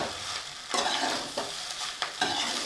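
Chicken fried rice sizzles and crackles on high flame while being stirred, with repeated scraping tosses in the pan every half second or so, close and continuous.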